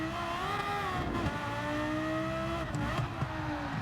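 Porsche Carrera GT 2004 supercar engine in a racing video game, a steady sustained drone with pitch swells as revs rise and fall, continuous and close throughout.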